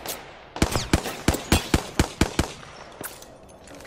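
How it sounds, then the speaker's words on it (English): Rapid bursts of gunfire striking a player in Apex Legends, about a dozen sharp, loud shots in a quick uneven rhythm, then a few scattered hits as it tapers off. "I am taking fire, friends."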